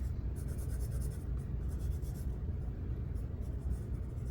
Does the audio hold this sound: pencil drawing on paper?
yes